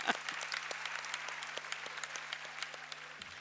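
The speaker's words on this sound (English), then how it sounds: "He deserves a clap." An audience at a leadership congress applauds, dense rapid clapping that stays fairly quiet and even for a few seconds.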